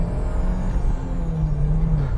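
A 27-year-old VW Golf GTI MK3 hot hatch engine revving from inside the car, a steady droning rumble whose pitch rises and holds, loud and continuous without talk.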